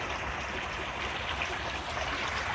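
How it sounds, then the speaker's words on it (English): Drainage water pours steadily into a creek during rain, a dense even rushing and trickling wash with no breaks, moderately loud and alone. "So that's where my water comes out. It goes into the creek."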